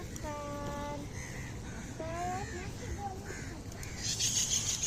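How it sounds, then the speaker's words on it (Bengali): Crows by the Brahmaputra river giving several harsh caws in quick bursts, moderately distant, over the open hiss of the river and faint background noise. "কাকগুলো এমন করতেছে কে বাবু?"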